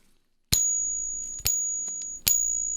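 A suspected fake silver dollar coin is tested by tapping, giving three sharp, high-pitched metallic pings that ring on and fade slowly between strikes, heard up close and alone.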